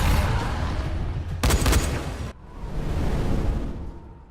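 Gunfire in the Dying Light zombie game, aimed at a canister on a zombie's back: a dense, continuous roar of shots with a sharp, louder burst in the middle, then a brief gap and renewed noisy rumble, with no voices.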